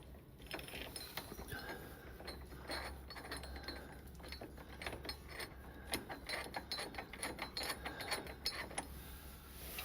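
A torque wrench tightens bolts on a KTM 1290 motorcycle's lowered foot peg kit, giving faint rapid ratcheting clicks and metallic clinks throughout, close but quiet against a steady low hum, with no talking.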